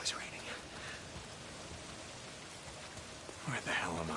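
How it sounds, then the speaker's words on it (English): Steady rain pours in the video game Days Gone, a soft continuous hiss of drops on surfaces, with a slightly louder burst near the end. "If it's not the freaks, it's the goddamn rain."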